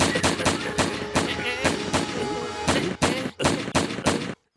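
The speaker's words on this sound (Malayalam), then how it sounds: "I am ready to shoot." Cartoon gunshots from an animated Motu Patlu episode fire in a rapid series of sharp, loud bangs, roughly a dozen spaced shots over four seconds, with music underneath.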